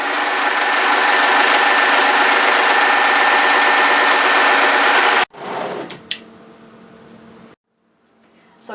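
Sewing machine stitching a bodysuit seam, running steadily and loudly for about five seconds with a fast mechanical whir, then stopping, followed by a few soft handling clicks and rustles.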